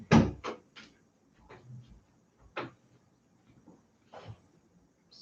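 A door in a quiet room is shut, giving a sharp knock followed by several softer thuds and rattles spaced over a few seconds, fairly close and otherwise quiet.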